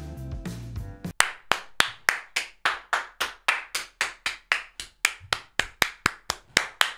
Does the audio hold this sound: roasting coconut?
no